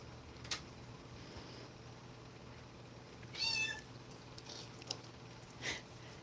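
A cat gives a short, faint meow in a quiet room, with a couple of soft clicks and rustles around it.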